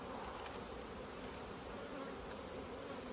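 Honey bees buzz around a hive colony as it is reduced for a mite wash, a dense, steady, close drone that fills the whole stretch without pause.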